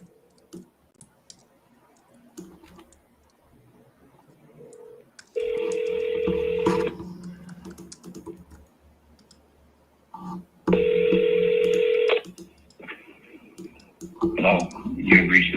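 A telephone is dialed repeatedly for outbound real estate calls: soft clicks, then two separate bursts of steady electronic ringing tone a few seconds apart, with brief voice fragments near the end.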